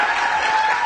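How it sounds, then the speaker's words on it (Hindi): A brief burst of studio audience clapping on a morning television show, steady and fairly loud for under a second. "टीपू के लिए तालियां।"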